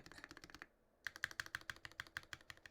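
Typing on an Iron 165 mechanical keyboard fitted with NK Yellow Silk switches. Crisp, close keystrokes come in a quick run, stop for a brief silence, then resume in a steady rhythm of sharp clacks.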